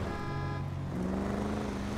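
Car horn honking in the video game GTA 5, a sustained tone that shifts pitch partway through, steady and fairly close over a continuous engine and traffic rumble.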